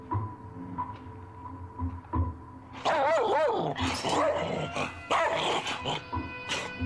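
A 35-pound dog growls low, then breaks into loud, repeated barking and yipping that comes in close, forceful bursts.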